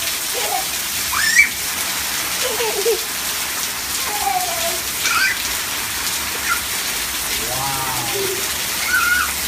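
Steady rain falling, a constant wash of drops hissing across the whole stretch, with faint scattered voices and chirpy sounds over it.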